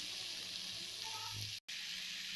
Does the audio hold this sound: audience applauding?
no